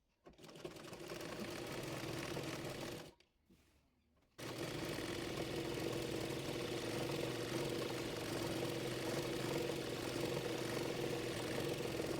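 A sewing machine stitches a salwar leg seam from hem to waist, a steady fast mechanical whirring that stops briefly for about a second before resuming, close and continuous.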